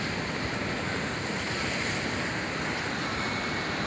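Ocean waves crash against a break wall protecting docked boats, a loud, continuous wash of surf mixed with wind buffeting the microphone, with no voices.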